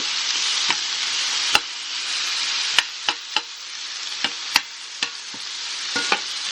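Onion chicken sizzles steadily in a frying pan, a dense hiss broken by sharp scraping clicks as a utensil stirs and knocks against the pan every second or so, close and loud with no talk.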